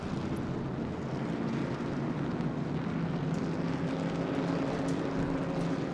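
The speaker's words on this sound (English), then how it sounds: "We want to hear these engines roar." Continuous roaring of historic Trans Am race car engines at Sebring, steady and loud throughout, a broad rumbling drone with no breaks.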